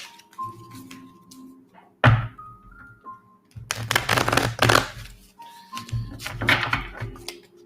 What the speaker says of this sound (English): I like to shuffle the cards a few times to make sure that you truly get them randomized.